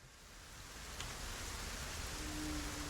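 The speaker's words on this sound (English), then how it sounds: "Oh, it's starting to rain." Rain falls in the video game Satisfactory as a soft, steady hiss that slowly swells louder, with no voices.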